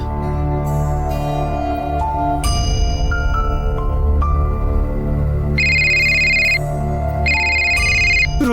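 A phone ringtone plays loudly and steadily through a domestic scene, its repeating electronic tones rising over soft background music, with no talk during the ringing.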